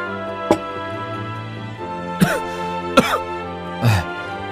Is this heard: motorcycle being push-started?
no